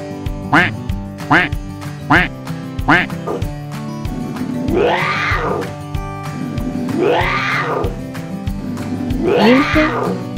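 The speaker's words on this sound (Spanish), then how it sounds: "Pato." A duck quacks in a real animal recording, a run of loud, close, nasal calls, first in quick separate bursts and then in longer drawn-out rasping quacks, with no talk.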